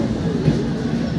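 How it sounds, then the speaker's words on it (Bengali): Up local train bound for Sealdah entering Jadavpur railway station, a loud, steady low rumble of wheels and carriages close by. "ট্রেনটি যাদবপুর রেলওয়ে স্টেশনে ঢুকছে।"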